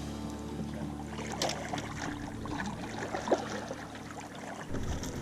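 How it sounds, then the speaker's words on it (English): A motorboat passes on the water near a snook fishing spot, its steady low engine drone and harmonic hum audible at moderate distance beneath soft water wash, cutting off near the end. "Got a boat coming through."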